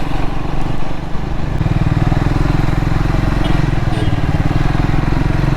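A motorcycle engine drones loud and close as the bike rides along a road near Ghatkesar toward Swarnagiri Temple. The rumble stays steady throughout.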